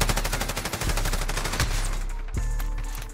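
The Encryption MK9 light machine gun in Modern Warfare fires a loud, sustained automatic burst of fast, even shots, then stops abruptly, followed by a single heavy thud and a brief ringing tail.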